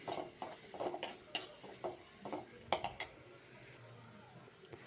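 A spoon stirs turmeric powder into a curry in a pan, knocking and scraping against the metal in a series of sharp, uneven clinks, followed by a quieter stretch with a faint sizzle.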